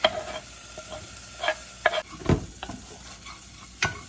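Chopped onion and garlic sizzle in a couple of tablespoons of bacon grease in a pan, a steady soft frying hiss broken by scattered scraping stir strokes, close by and with no talking.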